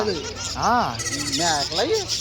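A goat at an animal market bleats three times, nearby and fairly loud, with one long wavering call followed by two shorter ones.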